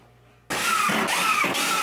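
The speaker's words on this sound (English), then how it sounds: "I'm going to mark them out and cut the angle using the circular saw" A circular saw cuts an angle in half-inch plywood, starting abruptly after near silence and running loud and close with a high whine that shifts slightly as the blade bites.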